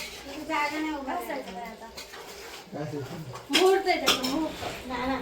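Dishes and pots clink and clatter in a home kitchen during a chicken biryani party while people talk over the noise, with sharp metallic knocks scattered throughout.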